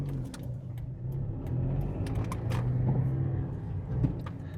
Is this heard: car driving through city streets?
yes